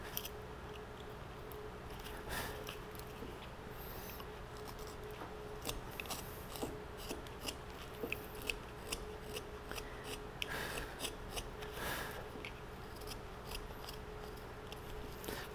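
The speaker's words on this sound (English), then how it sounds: "we're undercutting, bringing our knife across there to create the nose" A knife undercuts wood to shape the nose of a wood spirit face carved into a large octagonal wooden pencil, giving steady, close scraping and crisp slicing strokes with repeated sharp snicks and no talk.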